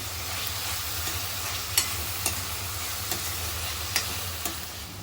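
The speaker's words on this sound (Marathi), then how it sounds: "टोमॅटो घालायचं आहे आता हे छान शिजून घ्यायचं आहे सगळं मऊ मऊ" Tomatoes softening in a pan for vangyache bharit give a continuous low sizzle, with light, regularly spaced clicks of a spoon stirring through the mix.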